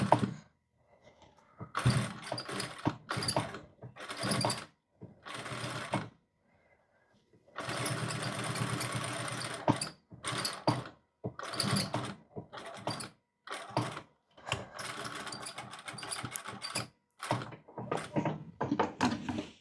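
A sewing machine runs in short stop-start bursts, each a few seconds long with quiet gaps between, as it sews a half-centimeter topstitch on a Chanel-style jacket.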